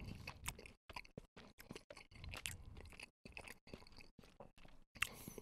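Salmon avocado sushi from a takeaway is eaten close to the microphone, with a run of soft, irregular chewing and crunchy bites broken by short pauses and no talk.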